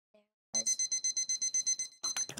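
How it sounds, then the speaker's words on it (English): Timer alarm for a one-minute reading check sounds a rapid run of evenly spaced high electronic beeps, close and clear, preceded by a faint short tone and breaking into a denser burst at the end. "When the timer sounds, tell the student to stop reading"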